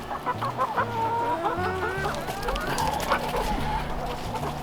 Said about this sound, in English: we can move Zoe's chickens each day, because those chickens that she had were the Rhode Island Reds right here,